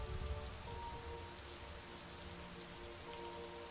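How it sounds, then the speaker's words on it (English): Steady thunderstorm rain pours without pause in the video game Superliminal, a dense, even hiss of drops on surfaces with no thunder standing out and no voices. "a nice thunderstorm here"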